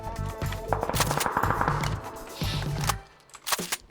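Rapid automatic gunfire in PUBG, several loud bursts of close shots cutting off briefly, then a couple of final isolated shots.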